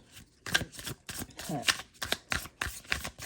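Cards are shuffled in quick riffling bursts, repeated several times in an uneven rhythm, close and moderately loud, with a voice briefly underneath.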